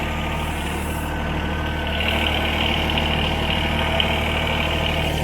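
Rhino XN12 mini excavator driving slowly in full forward, its engine a steady mid-pitched drone with a faint high whine, close and continuous with no talking.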